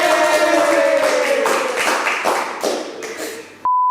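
A small group claps unevenly for a few seconds as a light celebration, the hand claps close and crisp, before cutting off abruptly into a steady tone.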